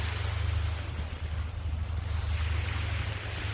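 Sea waves near the shore close to a home in Thailand: a continuous broad wash of surf with low wind rumble buffeting the microphone, steady and fairly loud, with no voices.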